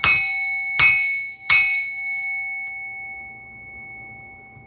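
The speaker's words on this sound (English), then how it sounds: "I'm going to ring the bell to remove all negative energies, entities, evil eyes from my energy and yours." A small bell is struck three times in quick succession, each bright ring clear and close, the last one left to hum and fade slowly into silence.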